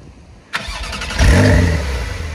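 A brand new Porsche 911 Targa with sports exhaust cranks and fires up: a sharp click, a short starter whir, then the engine catches with a loud rising rev that settles into a strong idle close by.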